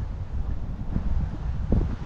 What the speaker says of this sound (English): It's windy, but you're walking with it, so you don't really feel it.